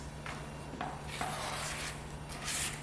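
A spatula scrapes around the sides of a bowl of chocolate cake batter in a few soft, short rubbing strokes, quiet and close, with no talk.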